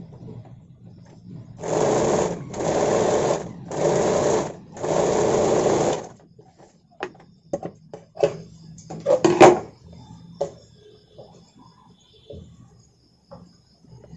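A sewing machine stitches a katori-cut blouse seam in four short, even bursts, then stops, followed by scattered handling clicks and small knocks nearby.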